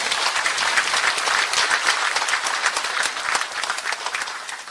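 Audience in a Taebaek arts hall gives a big round of applause at a regional development briefing, dense and loud clapping that stays steady throughout without speech.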